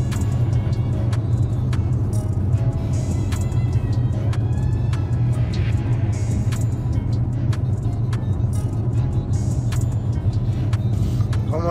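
Car engine runs with a steady, loud low rumble throughout, slight revving swells over the constant drone, with faint clicks and rattles on top and no talking.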